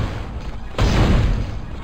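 A single heavy gunshot booms out in the retro-styled shooter Dead Space Demake, a sudden loud blast that lingers as a dense, rumbling tail.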